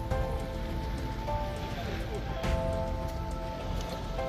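Steady rain falls on a fishing boat at sea off Jamaica, a dense continuous patter on hard surfaces with a constant low rumble beneath, unbroken throughout.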